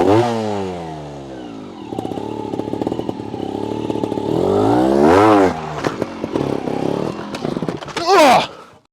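A 2022 Sherco SHT 300 Factory trial motorcycle is ridden close by, its engine rising and falling through several loud revs with clattering and scraping over the terrain, ending in a sharp burst of throttle.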